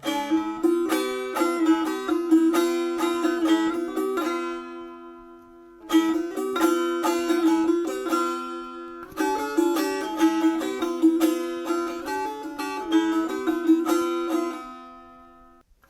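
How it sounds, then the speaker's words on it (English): Dutar melody plucked with the second string adding harmony, giving a fuller strummed texture in three continuous phrases separated by short gaps, close and loud with no voices. "when we're playing this melody with the help of the second string,"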